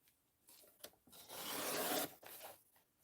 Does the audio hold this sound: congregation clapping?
no